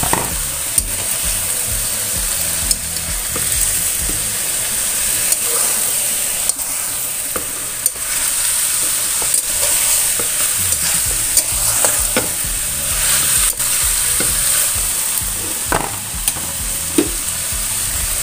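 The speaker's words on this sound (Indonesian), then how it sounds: "Lalu yang terakhir masukkan kolnya, karena kolnya ini tidak perlu lama-lama menumisnya" Cabbage stir-frying in a pan in a vegetarian dish, a loud sustained sizzle and crackle with frequent scraping strokes and clanks of the spatula, close and continuous throughout.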